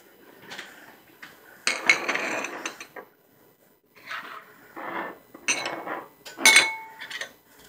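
Ingredients for a toast pizza are stirred in a bowl with irregular scraping, clinking and rattling bursts, broken by short quiet gaps.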